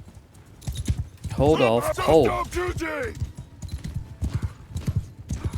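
Horses in a Mount & Blade II Bannerlord battle give a loud whinny in the middle, with hoofbeats clopping throughout and a voice briefly giving orders.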